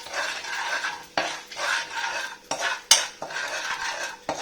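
A spoon scrapes and stirs fenugreek powder in a hot pan for Onam inji curry, making rhythmic gritty strokes close up with faint sizzling and occasional sharp clinks against the metal.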